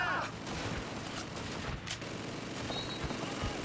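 Thompson submachine gun bursts in Call of Duty 2, a dense run of automatic fire mixed with explosions and battlefield noise, loud and continuous throughout.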